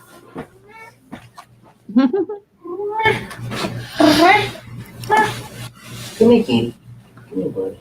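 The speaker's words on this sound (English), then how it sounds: "That's the cat, isn't it?" A pet cat makes rasping, growling and meowing sounds close by, with scratchy rubbing noises, while people talk over and between the cat's calls.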